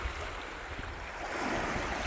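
Sea waves washing onto the shore with milky-green water, a continuous rushing surf under light wind noise, steady and fairly quiet with no voices.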